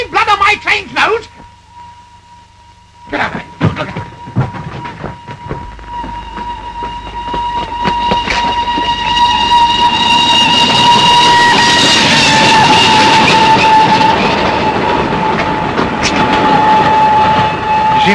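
An express train approaches and rushes past with a rising roar of wheels and a sustained horn tone, growing louder and staying loud to the end, with speech early on.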